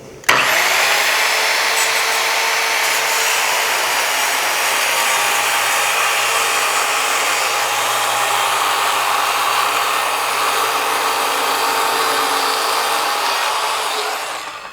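An Evolution multi-material track saw rips through 3/4 inch plywood clamped to scrap, with a loud, continuous whine and rasp of the blade held steady for about fourteen seconds, alone without talk.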